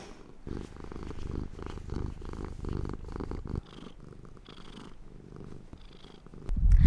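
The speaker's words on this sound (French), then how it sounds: "Plume, c'est une petite chatte que j'ai recueillie en octobre 2018." A small domestic female cat purrs close up in soft, rhythmic rumbling cycles, faint and steady throughout, ending in a brief louder bump.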